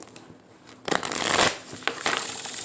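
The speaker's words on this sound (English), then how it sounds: "One more shuffle." A tarot card deck is shuffled by hand, starting with a few soft riffles and then building into a steady, close flutter of cards that keeps going to the end.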